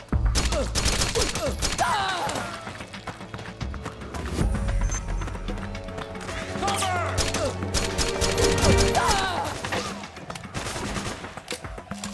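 Bursts of gunfire from the Metal Gear Solid 4 video game crackle continuously amid a busy, loud mix of combat noise throughout.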